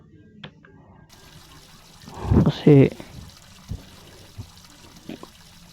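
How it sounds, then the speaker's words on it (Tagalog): A shower runs with a soft, steady hiss in the Roblox game Brookhaven, while a person speaks briefly over it and a few light taps sound. "I think I should take a shower"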